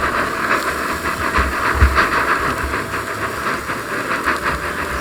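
A ribeye steak sears in a hot pan, giving a loud, steady, close hiss with faint rhythmic flutters and a low rumble underneath, no talking.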